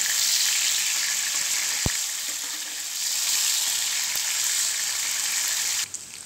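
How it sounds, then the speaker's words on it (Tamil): Chicken pieces for butter chicken sizzle and fry steadily in a pan until golden, a loud continuous hiss with one sharp tick near the start and a brief drop at the end. "இதோட 2 சைடும் நல்லா வெந்து பொன்னிறமாகிற வரைக்கும் இதை விட்டுருங்க வேகட்டும்."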